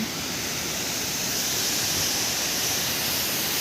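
Water released from a large barrage rushes down a hillside channel, a loud, steady broadband roar that stays constant throughout with no voices.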